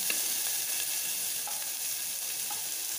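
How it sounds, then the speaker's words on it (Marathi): Onion cooking in ghee for a baby's khichdi gives a steady, close sizzle that holds evenly throughout, with a few faint clicks of a spoon against the pan and no voices. "आता आपण कांदा मस्त तुपामध्ये होऊ द्यायचा"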